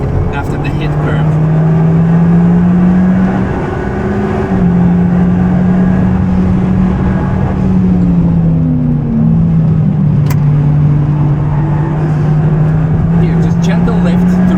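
Modified street-legal Alpine A110 driven flat out on a race track, a loud, sustained engine drone that rises and dips in pitch through the gears, with a voice talking over it from inside the car.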